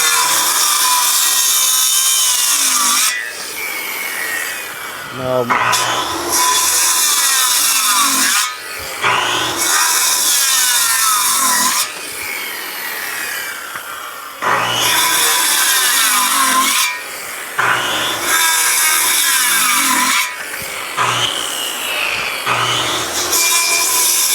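A hand saw cuts wood for a rafter dovetail joint in repeated, loud strokes that stop and restart in several bursts, close up, with no talking.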